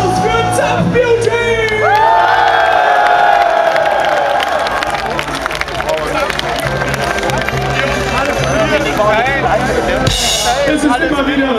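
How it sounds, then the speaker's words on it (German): A metal festival crowd at Metalfest Austria 2010 roars during a live show, with loud cheering, whoops and shouts throughout; music tones and an amplified voice sit under the dense crowd noise. "Nochmal einen riesen Applaus"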